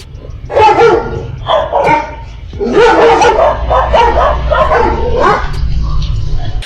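Dogs bark and yip over and over, loud and near, in overlapping bursts above a steady low hum.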